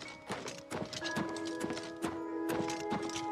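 Hooves clip-clop steadily from horses in the video game Oblivion Remastered, outdoors at a horse seller's, with a faint whinny and sustained musical tones underneath; no talking.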